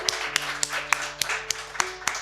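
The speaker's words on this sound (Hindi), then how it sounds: "तालियां आप दोनों के लिए।" An audience at a poetry event claps in scattered, sparse bursts, a few hands tapping irregularly and faintly rather than a full ovation.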